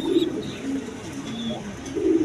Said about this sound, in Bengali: দেখেন একদম বাপমার মতো কবুতরগুলো আছে